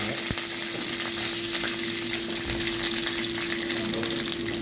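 Sliced onion and garlic sizzle steadily in hot oil with mustard seeds and curry leaves, the base for a fish curry, with occasional stirring scrapes and a constant close frying hiss.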